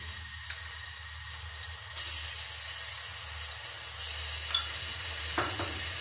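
Ginger garlic paste frying in hot oil in a kadai, a soft steady sizzle that swells slightly louder after a couple of seconds, with faint stirring scrapes.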